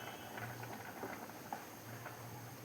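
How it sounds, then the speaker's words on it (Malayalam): A thick chickpea curry is stirred in a pot, soft irregular patters and bubbling scrapes at low volume with no talking. "നമുക്കിതെല്ലാം കൂടെ ഒന്ന് ഇളക്കിയെടുക്കണം."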